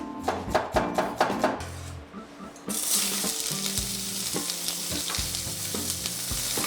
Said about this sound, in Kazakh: Пиязды кууруйбуз.